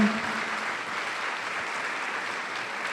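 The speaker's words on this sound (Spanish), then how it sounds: "Démosle aplauso a la gente que nos está siguiendo por diferentes medios de comunicación." Applause from a church congregation in San José, Costa Rica: a dense, steady wash of many hands clapping, close and sustained for several seconds without a break.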